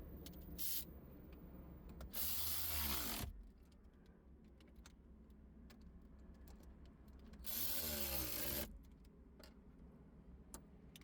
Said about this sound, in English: Let's connect the negative terminal. These two terminals are 10mm, so we're using a 10mm socket.